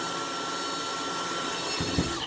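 A power drill bores through a trailer during a motorcycle build, a steady whining drone with brief louder bursts near the end as the bit breaks through.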